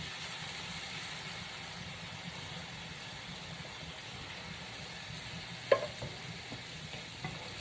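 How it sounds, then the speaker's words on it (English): Tomato sauce from a can poured into a hot pan and stirred, giving a steady low sizzle and scraping under a constant background hum, with one sharper clink of the spoon near the end. "Then I'm going to add a can of tomato sauce."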